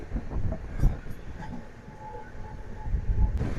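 A Visakhapatnam to Tirupathi double-decker train runs through heavy rain, giving a steady, close rumble of wheels and carriage noise with a few sharper rattles and no voices.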